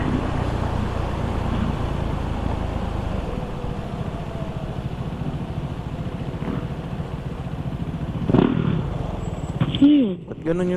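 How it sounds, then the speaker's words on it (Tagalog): A KTM Duke 390 motorcycle engine drones steadily while riding on Roxas Boulevard, a continuous low road-and-engine rumble with wind noise, ending in a brief louder burst near the end. "Ba't ganun yung tunog ng motor ko?"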